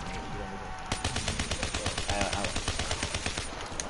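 An HG40 submachine gun fires at zombies in a video game in fast, rapid bursts. The shots are loud and close, fall in an even rhythm and run for several seconds.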